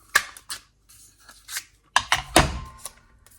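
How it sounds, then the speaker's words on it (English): Scissors trim the edge of an arch-shaped card, a series of close, crisp snips and paper rustles in quiet surroundings. "I'm just going to trim that with my scissors"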